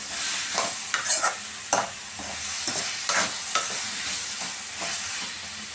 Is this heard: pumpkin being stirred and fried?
yes